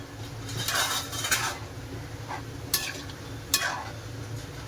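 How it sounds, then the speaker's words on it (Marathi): Upma semolina being stirred in a cooking pan over low heat, with repeated scraping strokes of a spoon against the pan over a low background hum and gentle sizzle. "सर्व ढवळत राहायचं"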